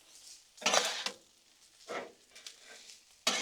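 A spatula mixes eggs into shrimp fried rice on a Blackstone griddle, making a few scraping, clattering strokes against the metal at irregular intervals over a faint sizzle.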